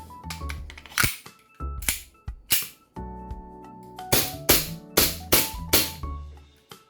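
Repaired E&C Glock 19 airsoft pistol test-fired after a magazine spring fix: a series of sharp, loud cracking shots, a few spaced singles then a quicker run of five or six, each with a metallic clack and ringing tail.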